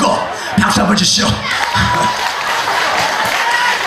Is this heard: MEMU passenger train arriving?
no